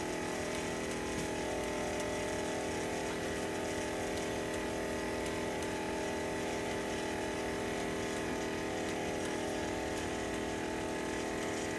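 Electric mixer steadily churning classic pound cake batter right after flour goes in, a loud, continuous mechanical whir with gear ratcheting that holds an even level with no talk.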